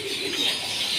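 A flock of pigeons gathers at a feeder, cooing softly in a continuous, close-up murmur with no voices over it.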